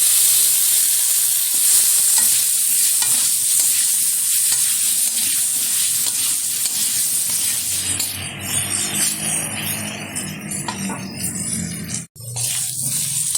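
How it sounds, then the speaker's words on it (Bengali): Potato pieces fry in hot oil with black cumin and turmeric in a pan, giving a steady loud sizzle with stirring scrapes throughout; the hiss thins out near the end. "আলুটা একটু ভালোভাবে ভেজে নেব।"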